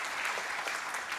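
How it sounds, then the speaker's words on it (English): Audience applause at a Diwali community celebration, a steady dense patter of many hands clapping throughout the short moment, moderately loud and even. "Big round of applause, please."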